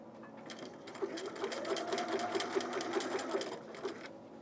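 Sewing machine stitching a side seam along a raw edge of a top, presser foot on the fabric, a steady rapid mechanical chatter of needle strokes for a few seconds, moderately close and alone.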